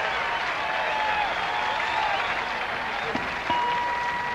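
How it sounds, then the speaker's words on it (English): Moderate, fairly distant audience applause at the Monterey Jazz Festival in 1980, steady clapping from an outdoor crowd with faint tones from the stage underneath. "How about another round of applause for the round mound of sound here?"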